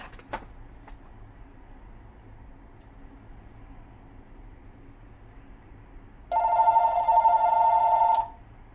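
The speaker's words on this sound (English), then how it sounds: "Let me grab this phone call." A telephone rings with a loud electronic trill for about two seconds near the end, after a long stretch of quiet room hum.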